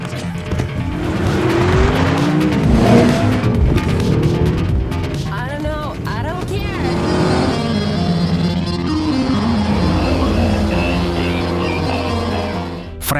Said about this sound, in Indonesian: Frank segera memasukkan Valentina ke dalam mobil lalu tancap gas untuk menghindari kejaran mereka.